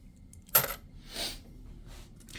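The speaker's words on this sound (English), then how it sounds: "So I will get 4 coins." A single sharp coin clink close by from the board game Architects of the West Kingdom, followed by a softer rustle of pieces on the table in a quiet room.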